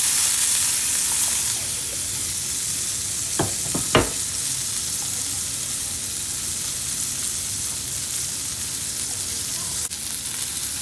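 Onions sizzle and fry steadily in Kerrygold butter in a pan, a continuous close hiss with a few brief stirring clatters early on and no talking.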